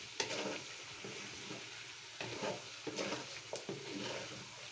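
Sliced eggplant sizzling gently in a pan over low heat, a soft continuous frying hiss broken by a few light stirring scrapes.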